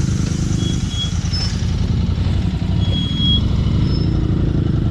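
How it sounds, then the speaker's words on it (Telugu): Lorries on a mountain road in Ladakh make a loud, steady diesel rumble that stays close and constant throughout, with no talking. "అక్కడ లారీ కదిలిపోతున్నాయి."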